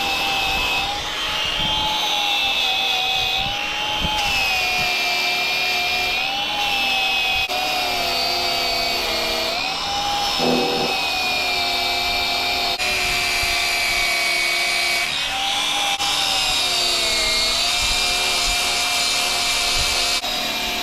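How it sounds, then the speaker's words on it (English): An angle grinder strips paint off a steel shipping container in one long continuous whine, loud and close, its pitch wavering slightly as pressure on the metal shifts. "So we'll start grinding."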